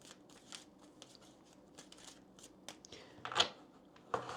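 Kipper cards being shuffled during a tarot reading, with soft riffling flicks and taps at an irregular rhythm, close and quiet, with one louder snap near the end.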